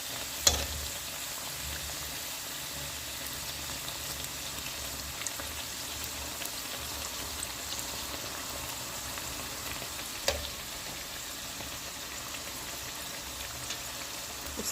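Pastries wrapped in pastilla sheets fry in hot oil, giving a steady, close crackling sizzle with fine popping throughout. A couple of sharper clicks break through, one near the start and one later.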